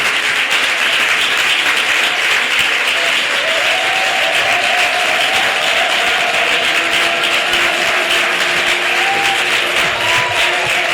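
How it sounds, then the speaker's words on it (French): Applause from a church congregation at an Easter Sunday service closing a 21-day fast, steady, dense clapping filling the room continuously, with tonal singing or voices rising faintly underneath. "Applaudis pour l'élever"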